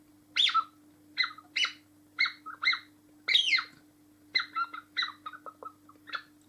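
A hand-blown hunting call decoy imitates a thrush with a run of sharp, high, whistled chirps and trills in uneven bursts, close and alone over a faint steady hum.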